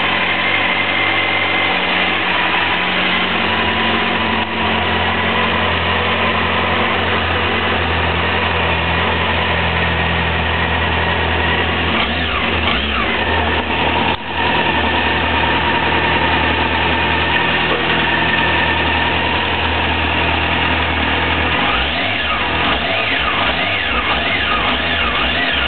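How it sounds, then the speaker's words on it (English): A Honda CBF600 motorcycle engine idles steadily and loudly for the whole stretch, with a low throbbing rumble and slight variations in pitch, no voices. "you can tell the engine sounds lovely"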